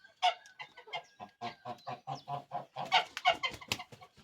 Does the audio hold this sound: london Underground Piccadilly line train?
no